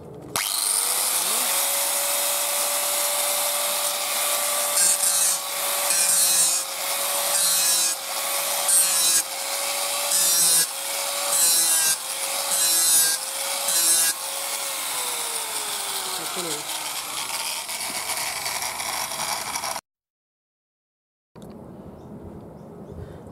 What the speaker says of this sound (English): when you're grinding it or filing it, it's nice smooth action.